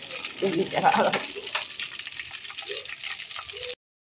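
Gentle bubbling and crackling of homemade butter simmering into ghee, still boiling after the gas is turned off, with soft stirring clatter early on, steady and close, fading out near the end.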